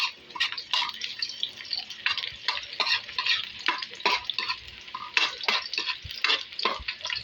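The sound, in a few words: stirring and frying food in a pan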